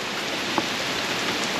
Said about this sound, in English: I can't drive the car in this rain.